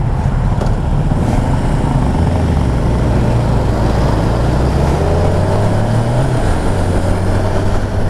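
A 2022 Kawasaki Ninja 1000SX motorcycle being ridden, its engine droning steadily with rising and falling pitch under constant loud wind rush.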